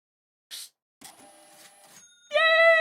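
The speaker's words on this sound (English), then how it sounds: "Yay! Receipt printer!" A receipt printer prints with short whirring and buzzing mechanical bursts, a brief pause, then a louder whine, close and alone with no talk.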